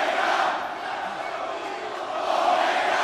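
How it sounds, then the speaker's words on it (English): A large, enthusiastic crowd at a pro wrestling event in the USA roars steadily throughout, a dense wash of cheering and shouting that swells slightly near the end. "enthusiastic and passionate crowd here tonight."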